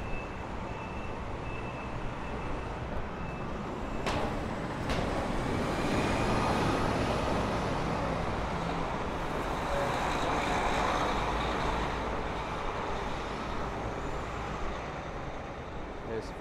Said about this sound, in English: It's also non-stop bus noise,